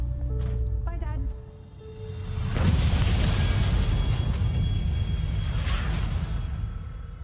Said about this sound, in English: An explosion rocks the city today.